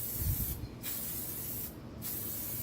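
Glittery metallic paint sprays onto a motorcycle fuel tank in a steady close hiss, cut by two brief pauses as the spray is released and pressed again.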